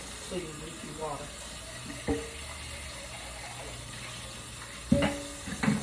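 Tap water running at a kitchen sink while a food chopper used for shrimp dip is rinsed out, a soft steady flow broken by a few sharper clatters and splashes near the end.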